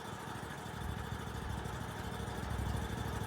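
A zero-turn lawn mower engine runs at half throttle with a steady, loud drone and rough low rumble that holds throughout, no voices over it.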